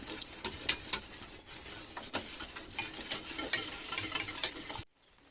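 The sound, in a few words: stirring salmon blanquette sauce as it starts to boil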